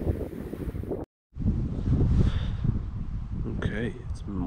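Wind rushes loudly across the microphone at a lakeside campsite in Killarney Provincial Park after heavy rain, a continuous gusty roar with a brief dropout, and a voice speaks faintly under it.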